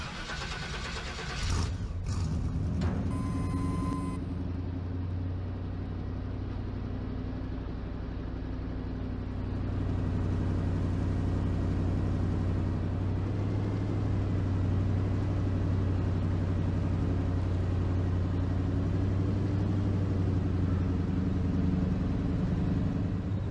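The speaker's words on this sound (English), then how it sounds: "I'm gonna assume this is a 1988 to 1994 model of the GMC GMT400" A 1988–1994 GMC GMT400 extended-cab pickup in Farming Simulator 22 cranks and starts, then settles into a steady low idling rumble that swells slightly louder, heard alone for a long stretch.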